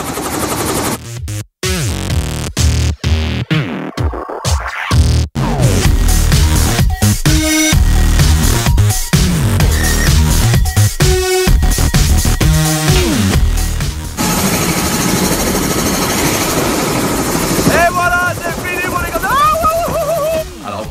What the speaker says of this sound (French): manœuvrer l'hélicoptère!